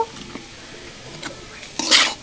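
Winged beans fry in a pan while being stirred, with soft scraping and light sizzling, then a brief louder stirring burst near the end; close and alone, no talk.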